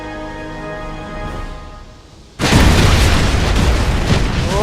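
Bomb explosion in the Wolfenstein video game: a tonal hum fades, then a sudden loud, close blast erupts into a sustained roaring, rumbling boom that fills the rest.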